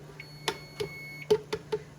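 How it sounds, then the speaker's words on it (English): A kitchen timer in a home kitchen during chicken tinga cooking gives a faint tone and a quick series of sharp, close beeps or clicks, with no talking. "Let's turn the kitchen timer off."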